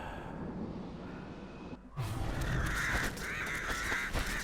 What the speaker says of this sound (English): yeah, birds fighting.